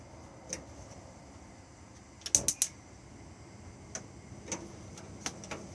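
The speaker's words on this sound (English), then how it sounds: "Next we have the hob, 3 gas rings, just push in, twist and push the igniter" A gas hob igniter on a three-ring hob in an Auto-Trail Tribute T715 motorhome clicks faintly. There are a few sparse single ticks and one quick burst of three sharp clicks in a quiet cabin.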